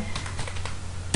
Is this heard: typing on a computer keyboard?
yes